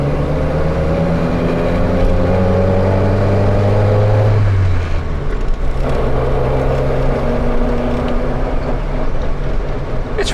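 A 1953 Citroen Traction Avant driving and shifting gears, its engine droning loud and close with a pitch that climbs, drops sharply at a gear change, then settles into a steady lower hum.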